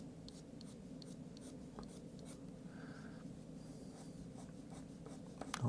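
A pencil scratches lightly across paper in short, quick, repeated strokes during a sketch of the king. The scratching is soft and close, with no speech.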